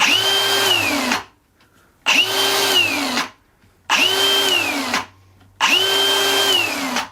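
An angle grinder whines loudly at full speed in four separate runs, each winding down briefly before its brake stops it abruptly, leaving short silences between.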